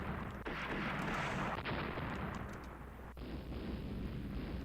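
Warship guns fire in the naval game Ruling the Waves, a few deep, heavy booms spaced over several seconds, each followed by a long rumbling roar at moderate loudness.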